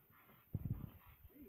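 A dog on a backyard trampoline gives a short burst of soft whimpering and low yips, close by and moderately loud, lasting under a second before fading to quiet.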